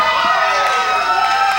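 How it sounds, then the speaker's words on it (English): Wrestling crowd at the CWF Mid-Atlantic 2015 Weaver Cup final cheering for Chet Sterling, a loud sustained roar of voices filling the arena with no breaks. "listen to the crowd come up for Chet Sterling"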